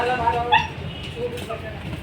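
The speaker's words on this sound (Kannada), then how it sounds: "ನೋಡಿ ಅಲ್ಲಿ ನಾಯಿ ಐತೆ" A dog gives short yips and soft whimpers at close range, mixed in among people talking and general background noise.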